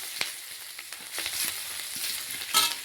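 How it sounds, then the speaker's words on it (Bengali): Spices, ginger and two dried red chillies fry in hot oil while being stirred in a pan, with a bright steady sizzle and occasional clicks and scrapes of the spoon, louder near the end. "তাই একটু নাড়িয়ে নিচ্ছি"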